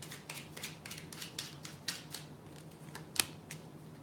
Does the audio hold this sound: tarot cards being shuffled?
yes